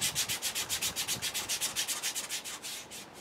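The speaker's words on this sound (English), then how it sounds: "I have finished the final sanding" Steady rhythmic hand sanding on an end-grain wooden bowl, even back-and-forth rasping strokes, close up, gradually slowing and softening toward the end.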